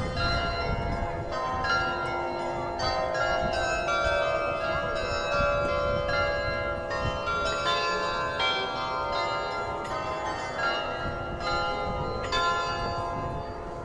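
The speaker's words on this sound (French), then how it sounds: "tous les quarts d'heure, il y a le carillon qui sonne" Church carillon bells in Saint-Quentin, France, playing a quarter-hour chime as a clear, ringing melody of successive struck notes with overlapping decays, loud and alone with no talk.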